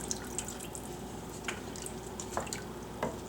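Water pouring into a soup pot for a hamburger noodle soup with a tomato base, a soft steady splashing with a few drip-like plinks, fairly quiet and close, with no talking.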